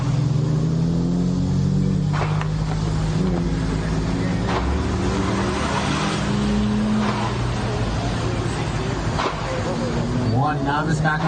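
Race cars including a Porsche Boxster and a Mustang running an autocross course; a continuous loud engine drone with wind noise sits under a public-address announcer's commentary.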